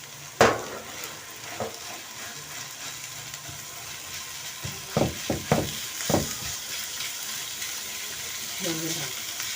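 Minced meat sizzles in a pan with onions while being stirred, a steady frying hiss broken by several sharp scrapes and clinks of the spoon against the pan, close and moderately loud.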